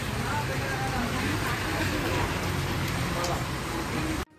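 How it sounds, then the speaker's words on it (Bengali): Steady, dense downpour of heavy rain hammering surfaces near a temple in Mayapur, continuous and loud throughout, ending abruptly. "কি প্রচণ্ড বৃষ্টিতে আমরা আজকে ফেসে গেছি"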